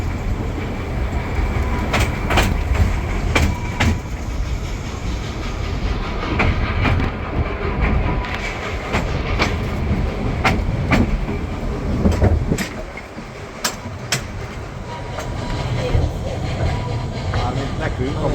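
The Mocanita narrow-gauge steam train at Viseu de Sus rumbles along its rails with steady loud clatter and occasional sharp clicks, a continuous ride noise throughout.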